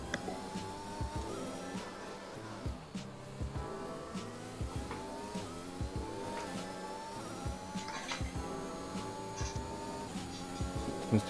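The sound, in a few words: Ferrari race car engine passing, racing video game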